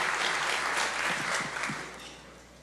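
Applause from a church congregation celebrating volunteers, a dense burst of clapping that starts strong and fades over a couple of seconds, with no one speaking.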